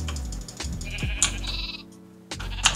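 Sheep bleating in a modded survival video game, several short bleats close together over a low game background, with a brief pause before another bleat at the end.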